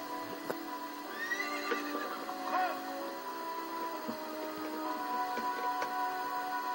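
A horse neighs and whinnies amid a busy Ocarina of Time game soundscape on GameCube, with steady background hum, a few clicks and a voice speaking at times.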